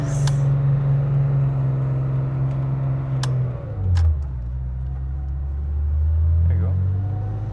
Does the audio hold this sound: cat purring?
no